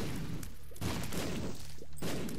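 A chain of bomb explosions in The Binding of Isaac, several loud cracking blasts in quick succession with short gaps, punchy and close, with no talking over them.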